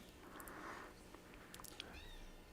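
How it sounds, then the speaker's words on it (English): A house cat meows faintly indoors, a short drawn-out cry rising over low background noise and quiet clicks. "there's my fucking cat"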